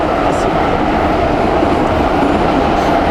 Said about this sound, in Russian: Вот уже гонки, звуки, особенно этот свист ветра из жабр вентиляции.